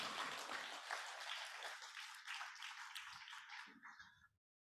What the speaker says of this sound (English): Can we just give another round of applause to these two beautiful